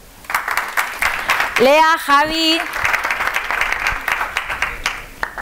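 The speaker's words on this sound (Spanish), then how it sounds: "recibamos con un fuertísimo aplauso" Audience applause welcoming an improv troupe at a networking session, brisk clapping that continues under a person speaking and a short sung or drawn-out vocal passage in the middle.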